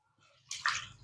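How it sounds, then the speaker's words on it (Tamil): Ration lentils are kneaded by hand in water, with a brief soft splash and sloshing that rises suddenly and continues close by. "தண்ணி விட்டு நல்லா பிசைஞ்சிங்கன்னா"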